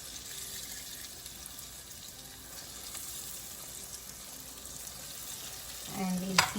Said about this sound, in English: Here's the oil heated up in the fryer, and I'm just going to slowly glide this into the oil.